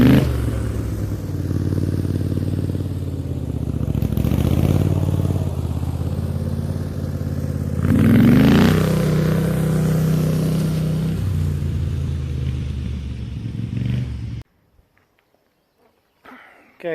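A Craftsman pulling tractor drives past towing a trailer, its engine a steady loud drone with a swell as it goes by, then cutting out into near silence at the end.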